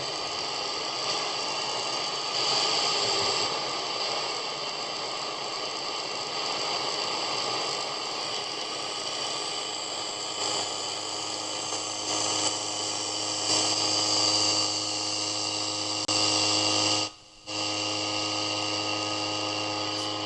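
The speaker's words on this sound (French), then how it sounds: "On se met en fréquence courte, on se met sur un bruit blanc." Shortwave radio tuned to empty static: a steady hiss of white noise with faint tonal whines, continuous and fairly loud, with one brief dropout near the end.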